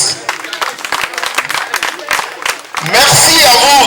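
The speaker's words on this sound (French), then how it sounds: "Vos enfants vous remercient et vous applaudissent." An audience at a ceremony honouring former teachers claps, faint at first beneath someone speaking, then a dense burst of applause swells loud at the end.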